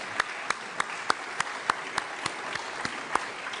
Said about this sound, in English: Let's give Jim a big round of applause